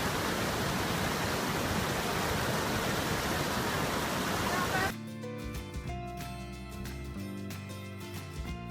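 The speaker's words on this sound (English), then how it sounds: "The noise of the water was very loud." Loud, steady roar of rushing water at Eagle Falls near Emerald Bay, a dense broadband wash filling the first five seconds before cutting abruptly to quieter music.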